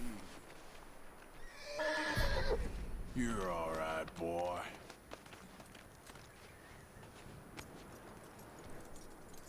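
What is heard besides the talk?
horse neighing and hooves clip-clopping, video game Red Dead Redemption 2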